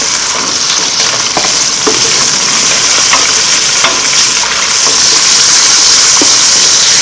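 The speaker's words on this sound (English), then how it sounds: "A little bit of garlic into the oil, like so. Toss the scallops in." Scallops frying in garlic-infused oil in a hot pan, a loud, dense, continuous sizzle with faint crackles throughout and no talking.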